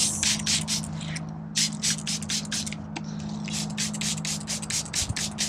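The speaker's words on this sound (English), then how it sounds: "Spray the under part." Repeated short hissing sprays from a spray bottle of castile soap solution onto the undersides of aphid-infested garden leaves, several quick bursts in a row with brief gaps, close by over a steady low hum.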